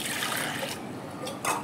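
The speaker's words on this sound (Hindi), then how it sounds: "अब इसमें हम पानी डालेंगे गाइज" Water poured onto washed masoor lentils in a cooking pot, a close, steady trickling splash lasting under two seconds with a brief louder surge near the end.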